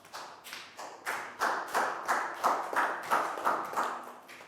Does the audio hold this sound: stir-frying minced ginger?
no